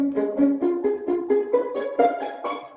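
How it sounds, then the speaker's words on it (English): Plucked pizzicato strings play a rising run of about ten short, bouncy notes in an even rhythm, close and clear with no other sounds. "Pizzicato is when you're on a string instrument and you're plucking."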